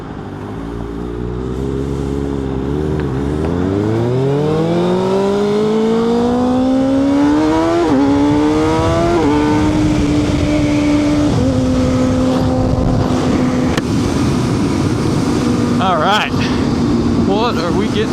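A Kawasaki ZX6 motorcycle cruises on a hot day in Dallas, its engine rising steadily in pitch through the gears, then settling into a sustained drone, loud and close from start to finish.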